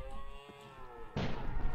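Wither Cannon from a Minecraft FTB modpack fires once, a sudden loud boom-like burst that cuts in over a quieter game backdrop and rumbles on briefly.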